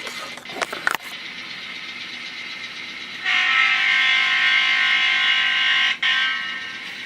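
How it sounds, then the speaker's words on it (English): A Penn Central-style horn on a GP38 model locomotive sounds one long, loud, steady chord lasting several seconds, following a stretch of low rumbling noise and a few short clanks. "So I decided to go with the Penn Central horn as best as I could find a match."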